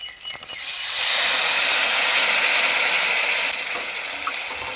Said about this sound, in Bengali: এখন মশলাটাকে কষিয়ে নিচ্ছি মশলা ধোয়া জল দিয়ে মশলাটাকে ভালো করে কষিয়ে নিয়েছি